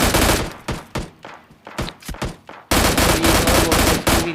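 Rapid bursts of automatic gunfire from bots in PUBG Lite, loud and close, with staccato single shots in the middle before a dense sustained fusillade resumes.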